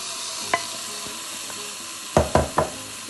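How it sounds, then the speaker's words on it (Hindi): Pieces of gosht being dropped into a hot pan of oil give a soft underlying sizzle punctuated by a few sharp splatter and clatter bursts, one early and three in quick succession near the end, close and loud. "सबसे पहले हम एक पैन के अंदर गोश्त डालेंगे,"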